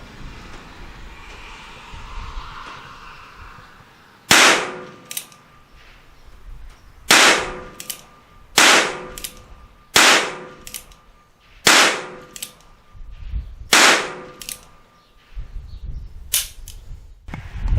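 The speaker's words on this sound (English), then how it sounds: "Ruger Wrangler 22 long rifle, single action only, from 15 yards away." A Ruger Wrangler .22 Long Rifle single-action revolver fires at an outdoor range from 15 yards. About eight sharp, loud cracks ring out, roughly a second or two apart, each with a brief ringing tail, after a quiet lead-in.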